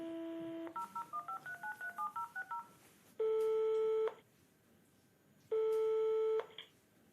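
Telephone keypad tones beep in a fast run of short dialing pulses, followed by two long steady tones separated by a pause, heard clearly over faint background hiss.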